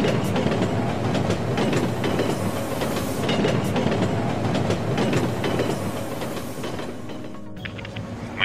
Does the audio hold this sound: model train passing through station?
yes